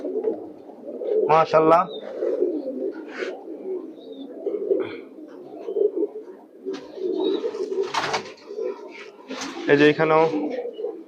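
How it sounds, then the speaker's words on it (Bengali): Bagha-type pigeons coo steadily in a crowded loft, a low continuous burble with sharper calls rising at intervals, while someone talks over them. "এই যে সুন্দর একটি কবুতর"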